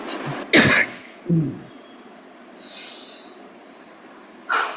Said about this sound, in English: I am coughing not only because I have a cold.